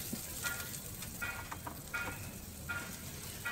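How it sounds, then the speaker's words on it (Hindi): Onions frying in a pan for a mushroom tomato curry, a steady close sizzle with soft crackles and occasional brief stirring scrapes, no talking. "प्याज जो है सॉफ्ट हो जाए बिल्कुल। अच्छे से इसको फ्राई कर लेंगे।"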